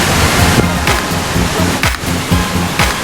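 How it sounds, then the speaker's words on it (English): Langbuku waterfall in Karbi Anglong roars as a steady, broadband wash of falling water, loud and continuous, with no voices over it. "this is Langbuku waterfall"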